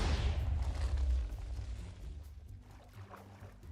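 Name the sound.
TNT explosion in Minecraft video game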